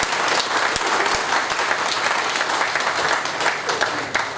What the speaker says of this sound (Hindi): एक बार जोरदार ताली बजाएं पी मार्ट के लिए।